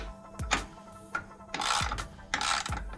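Ratcheting clicks from loosening the bottom nut on a Kemimoto mirror mount on a 2021 Can-Am X3, a few close, sharp mechanical bursts spaced unevenly with no talk.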